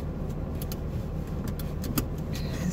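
Steady low engine and road rumble inside a moving car, constant and fairly loud throughout, with a few faint higher clicks and rattles over it; no one speaks.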